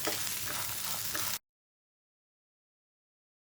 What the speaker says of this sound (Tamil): இதில் வேர்க்கடலை, காஞ்ச மிளகாய், பூண்டு, கருவேப்பிலை இது எல்லாத்தையும் சேர்த்து நல்லா வறுத்துக்கலாம்.